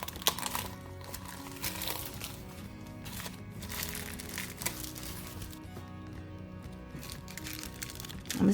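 Fresh freesia-colored tissue paper from a paper craft kit being handled, steady close crinkling and rustling throughout with a few sharper crackles, no talking over it.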